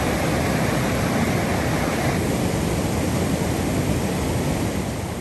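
A creek rushes at high water in mountain meadows, a dense, loud, steady roar of broadband noise that holds constant throughout, close by with no other sounds standing out.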